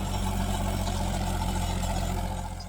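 A tractor engine running steadily while ploughing and raising ridges in a farm field at night, a continuous loud low rumble and drone throughout with no talk.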